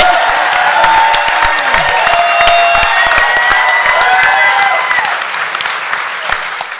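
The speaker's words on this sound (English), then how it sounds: "You're going to stay right here while people applaud you." Sustained audience applause fills the room at a live political talk show in Philadelphia, dense clapping with some cheering and voices, gradually thinning toward the end.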